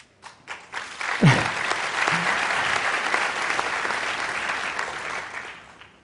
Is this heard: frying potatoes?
no